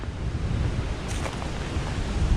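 Breezy wind at a campground, a steady broadband rush of gusting air buffeting the microphone throughout, fairly loud and continuous with no voices.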